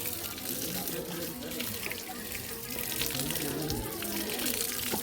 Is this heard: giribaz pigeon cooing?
no